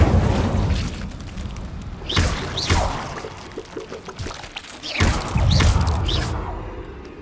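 Incendio fire spell cast in the video game Hogwarts Legacy, two whooshing fiery bursts with a rushing roar, each swelling and fading, separated by a few seconds of crackling ambience.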